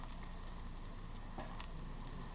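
Tofu fries in an oil and butter mix in a pan with a steady, dense sizzle and faint crackle, close up and continuous, with no voices over it.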